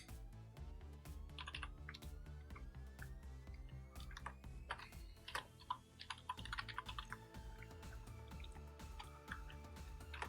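Fast, steady clicking of a computer keyboard while Python code is typed, with a brief pause midway and a faint background hum, close up and with no voices.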